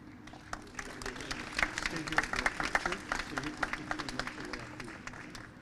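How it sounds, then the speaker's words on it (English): Audience applause at a cast and crew call for winning filmmakers in Sacramento: steady, dense clapping lasting several seconds, with a few sharper claps rising above the rest and a low crowd murmur beneath. "Give them all a big round of applause, huh?"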